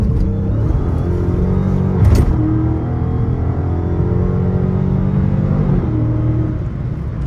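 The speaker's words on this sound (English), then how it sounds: "I don't know if y'all can hear that motherfucker whining on camera, but my airbox is crazy on the 392" Dodge Hellcat with the 392 engine and loud airbox accelerating on the street: a close, steady engine drone with rising and falling rev tones and a faint whine, a brief surge near the two-second mark, no talk.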